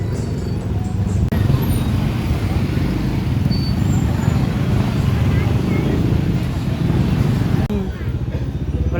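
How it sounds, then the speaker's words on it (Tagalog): Dense road traffic in Angeles, a steady low rumble of car, motorcycle and bus engines that stays close and loud throughout, with a brief change near the end. "Super traffic."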